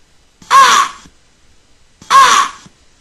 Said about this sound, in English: Black birds?